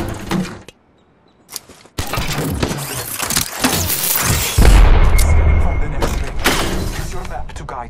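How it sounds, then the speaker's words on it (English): Gunfire in the video game Apex Legends: heavy rapid shots, impacts and booming blasts, a short silent gap and then a dense, continuous barrage, with a voice speaking over the combat. "Getting shot at."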